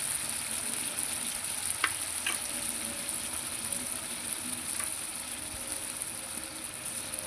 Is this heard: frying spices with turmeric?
yes